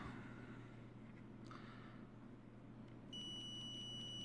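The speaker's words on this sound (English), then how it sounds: "let's just try it for continuity" A KING'SDUN KS-830L multimeter gives a steady, continuous continuity beep near the end, faint and thin over a low background hum.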